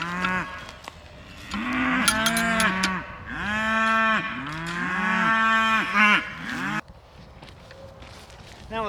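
Several cows moo on a farm, long low calls overlapping one after another at close range, with shuffling footsteps beneath and the lowing fading near the end.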